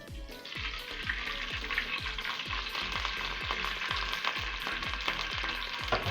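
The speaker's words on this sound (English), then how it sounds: "In a heated pot, I'm going to go ahead and add in our palm oil." Palm oil heating in a pot for frying njama, a dense steady sizzle and crackle with a repeated low thumping stir running through, close and fairly loud.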